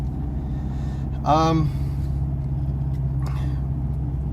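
A Subaru car engine runs with a steady low hum and rumble under the whole stretch, while a person speaks briefly over it partway through.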